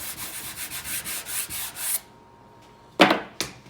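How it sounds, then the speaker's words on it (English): Rhythmic back-and-forth hand sanding on a laminated speaker enclosure, close and raspy strokes for two seconds. A pause follows, then a couple of sharp scraping rubs. "We're gonna take and sand it."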